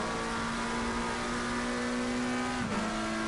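An Aston Martin AMR V8 GT3 race car in Assetto Corsa Competizione at Spa-Francorchamps: a steady, loud engine drone holding one pitch, then a quick dip as the driver shifts gear near the end, with no voices.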